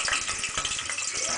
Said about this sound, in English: Put my 1 chopped onion in there.